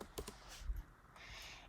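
Short bursts of typing on a computer keyboard, a few quick close key clicks followed by quieter tapping, no talking.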